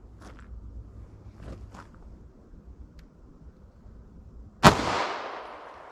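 A single sharp 9mm pistol shot, 115-grain Hornady XTP fired from a 3.2-inch barrel, cracks out loud and close after a few quiet seconds of faint shuffling, with a bright, decaying echo trailing off.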